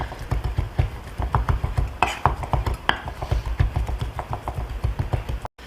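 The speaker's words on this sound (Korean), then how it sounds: "저는 고기를 다졌고요" Beef being minced with a kitchen knife on a cutting board, the blade rocked back and forth for Korean porridge and mushroom pancakes, giving quick, close, rhythmic chopping taps that run steadily and alone.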